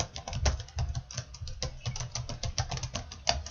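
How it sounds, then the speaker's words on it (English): A computer keyboard clatters as someone types a legal case name into a search box, a quick, steady stream of soft key clicks heard close and fairly quiet. "just type in Miranda v. Arizona."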